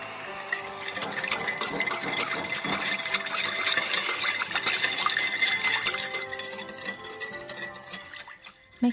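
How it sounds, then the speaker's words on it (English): A spoon clinks and scrapes steadily against a bowl while stirring sushi vinegar so it dissolves, giving light, rapid metallic taps that run continuously and fade near the end. "Make sure you stir well until they all melt"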